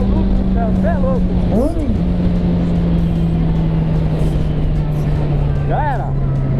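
Yamaha XJ6 motorcycle accelerating on a highway, its engine a loud steady drone close to the rider with rising gear-change sweeps, buried under rushing wind noise.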